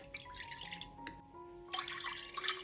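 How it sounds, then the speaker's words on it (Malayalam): Two cups of water are poured into a pressure cooker, making a soft, faint splashing and trickling that briefly stops and then returns a little louder, with no talking. "ഇനി ഒരു കുക്കറിലേക്ക് 2 കപ്പ് വെള്ളം ഒഴിച്ചു കൊടുക്കാം."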